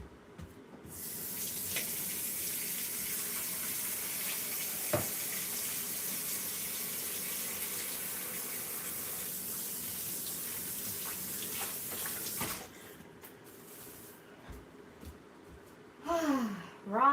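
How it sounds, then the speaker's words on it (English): Hands washed under a running kitchen tap, a steady close gush of water that runs for about twelve seconds, then stops, followed by a few faint handling sounds and a brief breath. "Gotta wash my hands."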